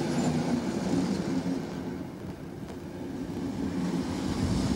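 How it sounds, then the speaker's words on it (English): Three steam locomotives haul the Orient Express uphill through the Vienna Woods, producing a loud, continuous rumble of heavy rolling stock with steady rattling wheels and no one talking. "Three steam locomotives pulling the Orient Express up through the Vienna woods."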